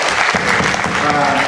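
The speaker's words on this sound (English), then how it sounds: "give a round of applause for Antonio" Loud, close audience applause at a memorial concert, a brief dense burst of clapping mixed with crowd voices and cheering.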